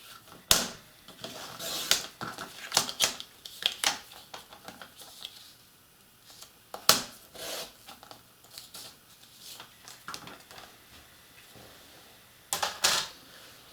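Scissors snipping through a 2.5-inch square of directional paper for a haunted house porch roof model, giving sharp, separate cuts in uneven bursts, fairly close and alone with no talking.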